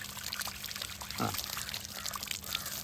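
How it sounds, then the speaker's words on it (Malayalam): Quiet water pouring and trickling onto soil around newly planted sugarcane against a hissy outdoor background, with a brief splashy burst partway through. "ഇതിപ്പോൾ നട്ട് കഴിഞ്ഞല്ലേ നമുക്ക് ചെറുതായിട്ട് വെള്ളം കൊടുക്കുകയും ചെയ്യാം"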